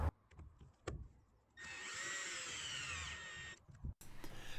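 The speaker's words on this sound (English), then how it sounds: "The final step was to screw down the polycarbonate sheeting to stop it flapping on the rafters in the wind." A power drill drives a hex washer roof screw through polycarbonate sheeting on a pergola, one sustained whirring run of about two seconds between brief knocks and handling noises.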